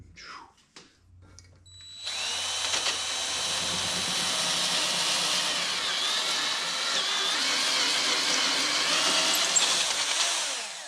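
A power drill whirs steadily for about nine seconds after a couple of faint knocks, drilling a hole for a threaded insert, loud and close, with a high grinding whine throughout.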